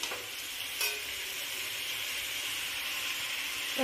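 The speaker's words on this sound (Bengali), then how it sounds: "এবার এটাকে আমি ভালো করে নাড়াচাড়া করব।" Fried vegetables for shukto are stirred in a hot pan, giving a steady close sizzle and hiss with a couple of brief scraping stirs near the start and no talking.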